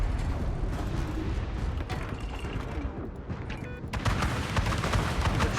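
In a naval combat game, ship guns fire on incoming missiles with rapid bursts of gunfire and clanking mechanical noise, growing louder and denser in the last seconds.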